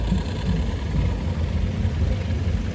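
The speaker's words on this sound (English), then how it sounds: "the ones alongside the arena works is a steam tractor" A steam tractor, built for hauling loads or timber, runs steadily at a steam show parade, its low, continuous chuffing rumble close and even throughout with no talk over it.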